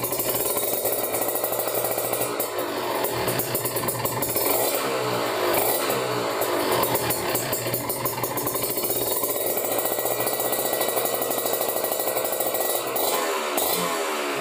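A motorcycle engine, just fitted with a new main jet and still cold, revs repeatedly through low and mid RPM, a loud rough mechanical drone rising and falling in steady cycles with no talk.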